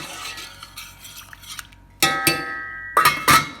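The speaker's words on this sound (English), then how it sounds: "Give it a little stir." A utensil stirs drained, soaked rice in a pot, giving a few sharp metallic scrapes and clinks against the pot after a quiet stretch of soft handling sounds.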